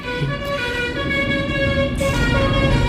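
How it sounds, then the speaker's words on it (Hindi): A bus horn in the Roblox game Mall Tycoon blares as a continuous, loud, steady tonal honk that lasts the whole moment without a break. "ये बस का फालतू में हॉर्न बजने लग गया"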